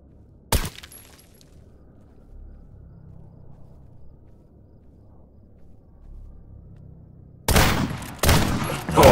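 Gunshots in a survival video game set in the Zone: one sharp, loud shot near the start, a long quiet stretch with a low hum, then a heavy cluster of close, loud shots at the end.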